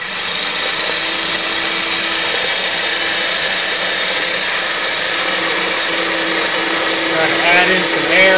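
A blender runs steadily while whipping eggs for soft, creamy scrambled eggs with cheese, giving a loud, continuous whirring drone from start to finish with a slight rise in pitch near the end.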